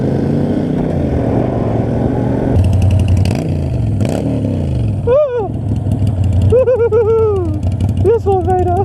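A motorcycle engine idles steadily close by, a continuous low chugging with some clattering bursts, while voices talk over it in the second half.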